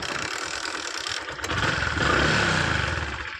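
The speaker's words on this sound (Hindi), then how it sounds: "बाइक करिए चालू।" A motorbike in a village starts up with a short crank and then settles into a steady, fairly loud idle close by, with no talk.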